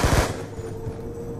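Uzi submachine gun in Call of Duty Black Ops 2 Zombies, Mob of the Dead: a short, loud, rapid burst of close automatic fire at the start that quickly trails off into quieter game ambience.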